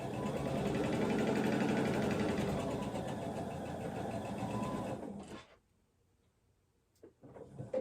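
A sewing machine stitches a pinned seam on a beach ball quilt top, whirring loudly and steadily for about five seconds, then stopping, with a few brief clicks and a short restart near the end.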